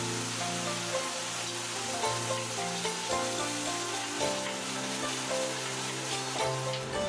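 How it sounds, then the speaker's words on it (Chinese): Pixian doubanjiang bean paste is stir-fried in hot oil in a wok with a steady, dense sizzle and crackle that carries on throughout, with soft background music beneath. "再勾入少许的郫县豆瓣，炒香，炒出颜色"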